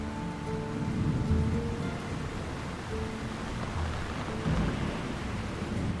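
Steady, heavy rain hisses continuously, with low rumbling swells that sound like distant thunder rolling underneath.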